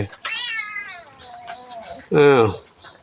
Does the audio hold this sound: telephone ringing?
no